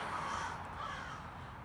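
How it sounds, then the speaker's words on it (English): Crows cawing in a steady stretch over a broad background hiss, the calls fairly distant and blending into the outdoor ambience. "hear the crows crowing"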